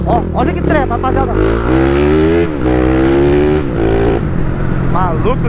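A modified Honda Twister motorcycle fitted with a 79mm kit accelerates hard, its engine note climbing in rising, rasping sweeps, loud and close, with a voice briefly audible over it.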